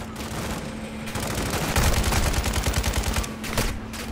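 Sustained rapid gunfire from a Call of Duty match, dense bursts of shots building in the middle and continuing to the end, loud and close with a steady game hum underneath.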